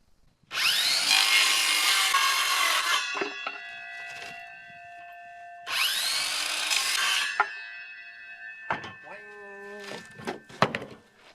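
A saw cuts a bevel into a piece of wood in two loud, rasping runs, each a few seconds long. Ringing tones and light knocks follow each cut.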